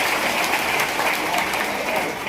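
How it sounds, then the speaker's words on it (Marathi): A gathering at a shrine in Narayanpur applauds donors of food before the aarti, a steady, fairly close wash of many hands clapping without a break. "यांना एकदा टाळ्या वाजवून आशीर्वाद द्यायचा"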